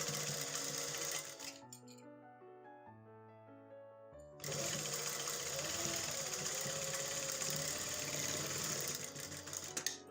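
A sewing machine stitches along the edge of a trouser in two long, steady bursts of rapid close rattling, separated by a pause in which a soft tonal sound plays faintly.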